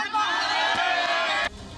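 A dense crowd of Mahakumbh pilgrims queuing for darshan chanting together in a loud, sustained roar of voices that cuts off abruptly near the end.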